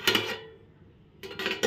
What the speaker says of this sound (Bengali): এখন দেখো ঢাকাটা তুলে নিলাম।